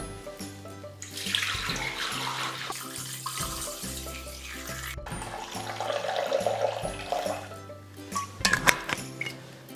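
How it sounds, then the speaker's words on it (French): Water runs into a Thermomix bowl as it weighs out 800 g, a steady splashing pour with rising and falling gurgle, close by, plus a faint repeating low tone from the machine and a few small clinks near the end. "on va allumer notre Thermomix et commencer par peser 800 g d'eau"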